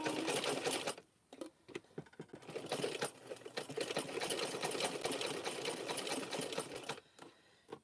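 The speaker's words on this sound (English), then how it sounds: "Come on, sewing machine." A sewing machine runs in steady loud bursts as it stitches rope into a chain at a tabletop, pausing briefly near the start and again near the end, with no talking over it.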